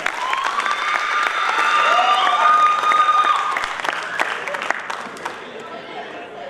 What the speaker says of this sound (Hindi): जोरदार तालियां वरुण शर्मा के लिए।